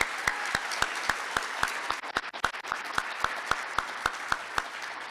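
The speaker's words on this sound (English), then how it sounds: "let's give Selena and let's give Jeannie another round of applause" Applause at a 2023 graduation ceremony: sharp, evenly spaced claps at a steady beat with a softer crowd wash beneath, briefly turning denser and more scattered midway.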